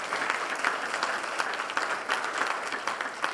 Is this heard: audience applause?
yes